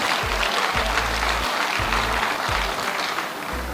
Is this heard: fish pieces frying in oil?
no